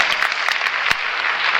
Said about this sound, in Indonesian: tepuk tangan bagi Allah kita, saudaraku